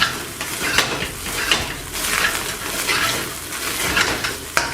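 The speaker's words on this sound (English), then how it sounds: "A really good mix that you want to fry up those rice and mix that seasoning." Egg fried rice with soy sauce and seasoning being stir-fried in a pan, a steady close sizzle with scraping and stirring strokes of a utensil against the metal, no talk.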